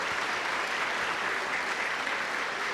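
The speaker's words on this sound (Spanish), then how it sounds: "Un aplauso al Señor." A church congregation claps together in praise to the Lord during a sermon, a dense, steady round of applause filling the room without break, with no voices standing out.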